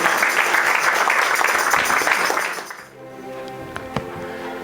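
A church congregation at a Sunday service claps together in steady, dense applause that fades away after a few seconds, leaving faint room noise and a few scattered clinks.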